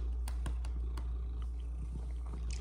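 A house cat purrs close by in a low, steady rumble, with a few soft taps and rustles over it and no talking.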